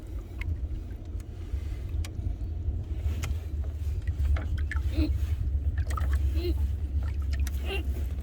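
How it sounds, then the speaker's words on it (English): A small boat motor hums steadily at close range, low and continuous, struggling in weeds, with occasional clicks and knocks over it. "this little motor might not be enough to get me out of these weeds"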